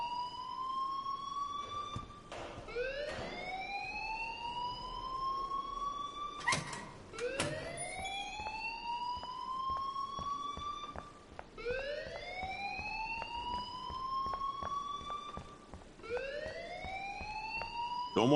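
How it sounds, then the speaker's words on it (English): A school alarm in a video game wails in repeating rising electronic sweeps, one about every four seconds, loud and steady with no talking. "please turn off that alarm since that's your job"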